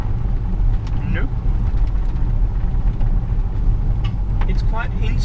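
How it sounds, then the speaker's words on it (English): Low, steady road rumble inside a 1998 Mercedes-Benz CLK320 with a 3.2 engine, driving on a gravel road, muffled and continuous throughout, with people talking over it. "can you hear much road noise in this car, even though we're on a gravel road right now?"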